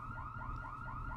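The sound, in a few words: alarm blaring in TV show scene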